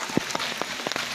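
Rain patters onto surfaces at an outdoor fair, a dense hiss with a few sharper drops striking close by, steady and fairly quiet through a brief moment.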